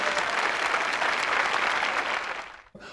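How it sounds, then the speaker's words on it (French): A TV studio audience applauds in a dense, even burst of clapping that fades out near the end, loud and without talk over it. "Ça s'applaudit aussi, ça, hein, à l'antenne, toutes les semaines"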